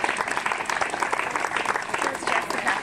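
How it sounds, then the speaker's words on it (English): Steady crowd applause at a parkrun briefing for junior runners, a dense continuous patter of many hands at moderate distance, filling the whole moment without a break. "Let's give them a thundering round of applause."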